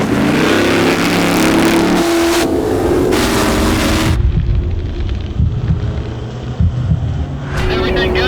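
A Can-Am race car in the unlimited 4400 class roars past loudly, engine howling at high revs, then the noise drops to a rougher rumble before surging again.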